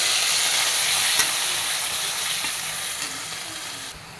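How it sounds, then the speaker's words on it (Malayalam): Shallots and tomatoes frying in oil with mustard seeds, curry leaves and chillies, a steady loud sizzle with faint crackles and spoon scrapes, no talk. "ലേശം എണ്ണ ആയിട്ട് തന്നെ ചെറിയ ഉള്ളി, തക്കാളി ഇട്ട് കൊടുക്കാം."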